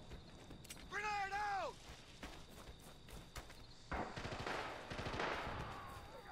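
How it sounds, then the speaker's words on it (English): Gunfire in the World War II shooter game Rising Storm, scattered distant shots and bursts mixed with in-game clatter and a rising whistle-like tone, faint under occasional talk. "Shots out in the distance over there."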